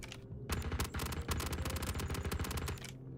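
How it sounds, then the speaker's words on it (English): Rapid automatic gunfire in the space game Star Citizen, a dense burst of shots rattling continuously for about two and a half seconds, loud and close, with no talking over it. "That shooting. Is that a player?"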